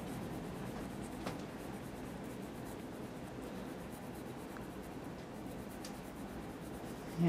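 A pencil scratches continuous lines across paper during a line drawing exercise, a soft steady rasping close up with slight strokes and pauses, alone without talk.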